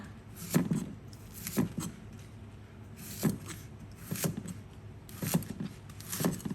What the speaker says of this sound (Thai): ผักคะน้านี่ล้างทำความสะอาดเรียบร้อยแล้วนะคะ จากนั้นเราก็จะมาหั่นค่ะ